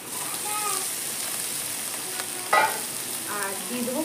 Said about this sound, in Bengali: পেঁয়াজ রসুনটা হালকা ভাজা হয়ে গেছে। এখন আমি ওটা দিয়ে দেবো চিংড়ি মাছের মাথাটা